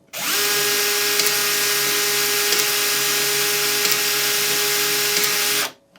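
A DeWalt DCE410 brushless PEX expander runs in one continuous burst of about five seconds, a loud, even motor whine with a faint ticking from the auto-rotating head, starting and stopping abruptly, close up and alone.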